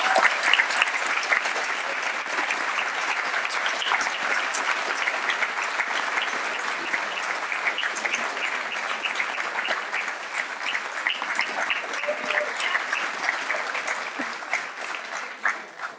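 A commencement ceremony audience applauds warmly after a faculty award at a university graduation, steady dense clapping sustained throughout and easing slightly at the end.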